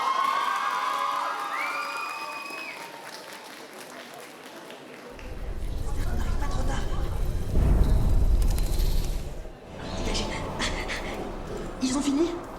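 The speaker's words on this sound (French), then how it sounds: "on applaudit super fort Ligne de la Cour en Sélénia" Audience at a cosplay contest cheering and clapping, building into a loud swell of crowd noise and applause after a stretch of quieter voices and music, with shouts rising over the mix.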